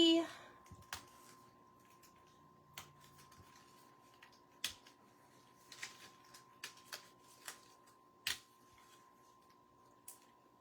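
Die-cut cardstock pieces being punched out by hand at a craft table, a quiet room with scattered sharp pops and snaps spaced irregularly, plus light rustling between them.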